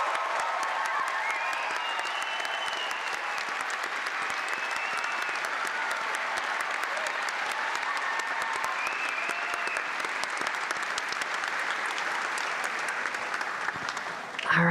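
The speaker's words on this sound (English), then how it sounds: "Audience, let's give them a big round of applause while they take it all on." A spelling bee audience gives sustained, even applause that holds for about fifteen seconds, a thick continuous clapping from a sizeable crowd with no talk over it.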